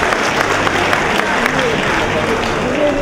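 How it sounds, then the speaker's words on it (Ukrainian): Dense, sustained applause rolls from a concert hall audience at a spring holiday concert, honoring the ensemble directors, with a faint voice underneath the steady clapping. "Друзі, ще вищішими оплесками"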